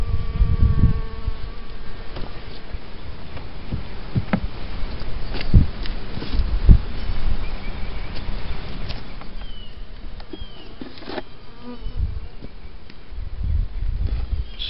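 Honey bees buzz close by during a hive inspection after winter, a continuous insect drone with scattered rustles and knocks from handling the hive.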